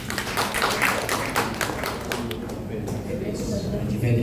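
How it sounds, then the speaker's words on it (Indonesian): Scattered hand claps from an audience at an Indonesian notaries' association halal bihalal gathering, a steady patter under continuous talk for about four seconds. "Tepuk tangan buat Pak Haji."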